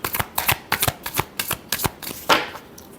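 Tarot cards are shuffled by hand in a quick run of crisp riffling flicks, about a dozen rapid taps close to the listener, ending in one longer brushing slide.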